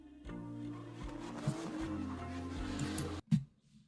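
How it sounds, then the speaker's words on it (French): Distant car engines at night in Tokyo hum and drone at a low level, rising and falling briefly before a short pause and a final burst. "des bruits de moteurs au lointain"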